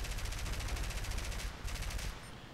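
Continuous rapid machine-gun fire from a Do217J-1 bomber's defensive gun in War Thunder, a steady rattling stream of shots held at even loudness throughout.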